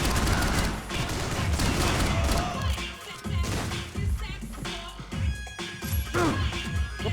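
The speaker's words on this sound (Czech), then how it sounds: "Střelba." Sustained bursts of gunfire and crashing impacts from the video game Max Payne 3 fill the whole stretch, loud and dense with rapid overlapping shots, and no voices are apparent.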